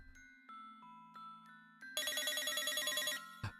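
A telephone rings alone and fairly close, first as a few separate electronic tones and then as a rapid, warbling ring burst that stops abruptly, followed by a single thump.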